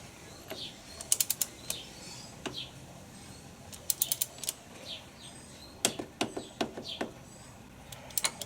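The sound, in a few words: ratchet tightening DR650 motorcycle chain adjuster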